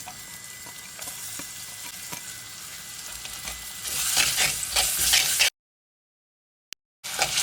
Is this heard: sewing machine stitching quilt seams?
no